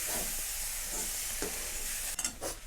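Sprouted moth bean curry stirred in oil with onion and tomato, a soft continuous sizzle with occasional spoon scrapes against the pan, close but fairly quiet, no talk.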